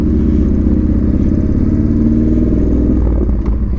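A Yamaha Bolt motorcycle rides slowly, its close, loud engine chugging in a steady low throb that continues unbroken throughout.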